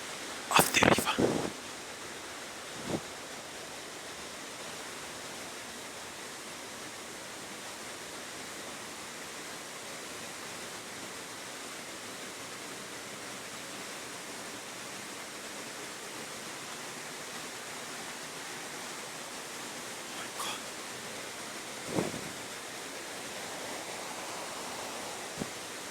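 River water rushing steadily at the foot of a waterfall, a constant broad wash of flow with a few brief louder knocks near the start and toward the end.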